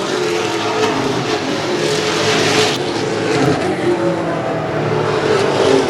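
Race cars circle a short track during a feature race, their engines a loud, continuous roar with the pitch swelling and fading as cars pass close by.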